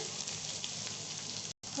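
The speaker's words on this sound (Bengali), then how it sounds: "যেই পেঁয়াজ কুচিটা আমি রেখেছিলাম ওইটা এখন দিয়ে দেব। দিয়ে ভালোভাবে নাড়াচাড়া করব।" Chopped onions for noodles fry in a pan with a soft, even hiss that cuts out for a moment near the end, then resumes.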